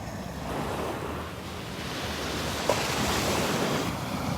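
Ocean waves wash steadily onto Vanderbilt Beach on a calm morning, a continuous broad surf rush with light wind noise and one brief small knock, no voices.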